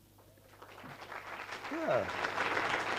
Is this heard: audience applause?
yes